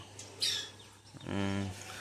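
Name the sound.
pet lovebirds chirping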